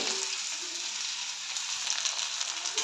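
Chopped onion frying in a little hot oil in a pan: a steady, close hiss and sizzle with a few faint crackles, no voices.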